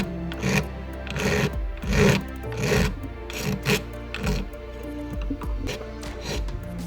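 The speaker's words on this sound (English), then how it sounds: "you can just file it off afterwards" Hand file rasping excess solder off a handmade piece of jewellery, close up, in a series of irregular scraping strokes of varying length with brief pauses between them.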